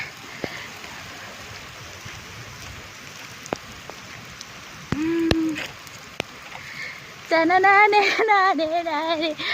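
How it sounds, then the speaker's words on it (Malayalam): Rain falls outdoors in Oman with a steady, even patter, while voices briefly speak or exclaim over it toward the middle and end. "അങ്ങനെ മഴ കൊണ്ടിരിക്കുന്നു"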